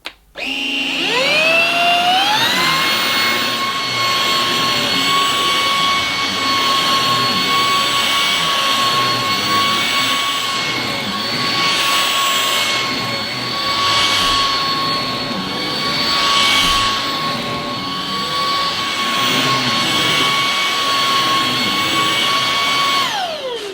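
A Simplicity S65D cordless vacuum cleaner switched to boost on plush pile carpet, its brush roll spinning: the motor ramps up within a second into a loud, steady high-pitched whine that holds, with no talking.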